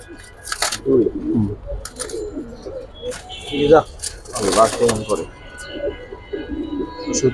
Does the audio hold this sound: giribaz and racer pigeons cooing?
yes